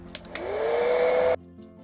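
A hair dryer blows steadily on a freshly painted ornament, its motor whine rising slightly in pitch as it spins up, loud and close for over a second before switching off abruptly, preceded by a couple of small clicks.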